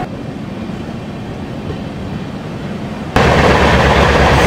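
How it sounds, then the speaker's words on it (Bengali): The Doon Express rolls along at speed with a steady rumbling clatter that abruptly jumps to a much louder, fuller roar partway through. "ট্রেন কিন্তু ভালো গতি নিয়েছে, ভালো বেশ স্পিডে যাচ্ছে।"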